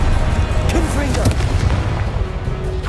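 Confringo, an explosive blasting spell in Hogwarts Legacy, goes off as a loud, dense boom over a rumbling combat din, with a voice calling out nearby.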